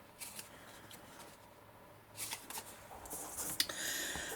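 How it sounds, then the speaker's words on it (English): Scored paper card being folded along its score lines gives soft, close rustles and crisp creases in a few short bursts, quiet and alone. "I'll just fold along these score lines just a little bit."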